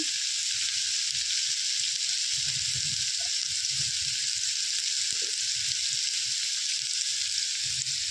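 Crabs fry in mustard oil with turmeric and salt, sending up a steady, even sizzle that carries on unbroken throughout, with faint low bubbling beneath.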